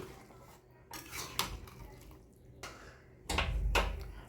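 A spoon stirs omelette curry in a metal cooking pot, giving several distinct clinks and scrapes against the pot in irregular bursts, the last one louder and longer, with a faint bubbling simmer between them.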